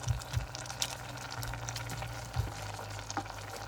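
Scampi and tagliatelle cooking in a pan, a steady close sizzle with repeated low stirring scrapes and small pops, moderately loud, no speech.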